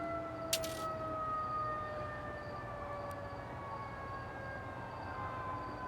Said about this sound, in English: Never mind the siren in the background.